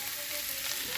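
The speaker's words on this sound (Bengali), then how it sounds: "ডিমটা অত কড়া ভাজবো না" An egg fries in a pan for Bengali egg curry, giving a soft, steady sizzling hiss for about a second, fairly faint and with no voices.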